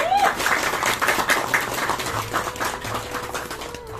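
Applause for theatre groups at a community event, many people clapping together under a busy, noisy room, with voices mixed in and the clapping loose and uneven.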